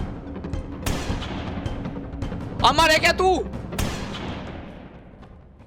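Several sharp booming shotgun shots ring out at irregular intervals amid game sound effects in the video game Granny 5, with someone speaking briefly between them.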